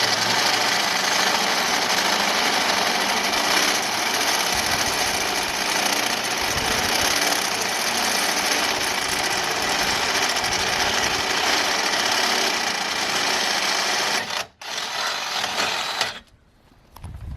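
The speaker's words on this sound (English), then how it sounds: "We just finished up drilling the knuckle." A power drill grinds continuously into a metal brake knuckle for a long stretch, loud and close, with a couple of brief pauses near the end.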